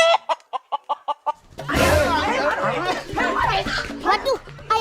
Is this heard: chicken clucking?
yes